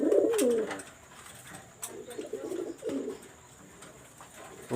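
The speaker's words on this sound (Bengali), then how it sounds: "এখানে দেখেন একটা সিঙ্গেল মেল কবুতর আমি দেখাচ্ছি" A single male pigeon coos in repeated throaty bursts, close and fairly loud, with short pauses between the calls and no talk.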